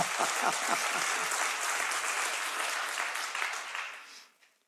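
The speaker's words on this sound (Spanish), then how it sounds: "Pienso que a Él le gusta tu aplauso de que Él está vivo." Church congregation applauding during a sermon, a full rush of many hands clapping steadily, then thinning and fading out over the last second.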